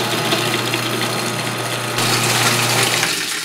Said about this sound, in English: And then you're going to turn it back on and slowly start streaming in your oil.